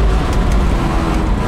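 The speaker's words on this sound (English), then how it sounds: "Here's high-speed braking." A 1972 Chevrolet Nova Skyroof brakes hard at high speed on the road, giving a loud, steady roar of tires and road rumble close by, with no voices.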